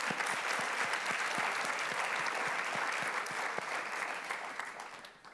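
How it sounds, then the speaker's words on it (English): Steady audience applause at an awards ceremony for the Megalizzi-Niedzielski prize, dense clapping holding evenly for several seconds before tapering off toward the end. "Give an applause to Albert"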